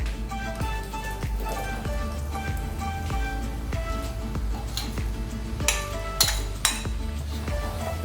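Ground chili and garlic stirred through hot coconut milk in a pan for sambal lado tanak, a spoon scraping steadily with soft sizzling and a few sharp clinks of metal against the pot, close and continuous.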